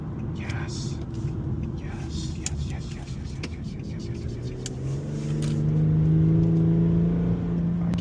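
An Infiniti G37 engine pulls steadily under acceleration, its low drone rising and swelling louder toward the end as the driver shifts gears, heard up close from inside the car with faint speech in the background.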